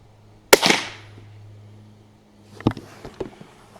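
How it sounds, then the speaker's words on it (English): A .22LR rifle firing a CCI Mini Mag 36 grain high velocity bullet, one sharp close report followed by a short decay, then quieter clattering knocks and handling noises. "Next bullet is the CCI Mini Mag 36 grain."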